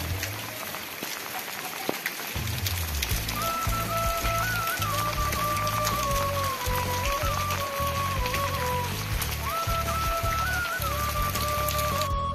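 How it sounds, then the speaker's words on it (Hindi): Steady, heavy rain pours down at night and drums on surfaces throughout, dense and constant, with a faint tonal hum rising and falling in the background. "बारिश तो है लगातार हो रही है, रुकने का नाम नहीं ले रही बारिश"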